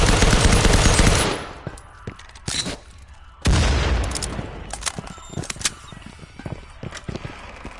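Gunfire in the video game Firewall Zero Hour: a loud burst of rapid shots opens, followed by scattered single cracks and a second sustained volley, with faint voices in between.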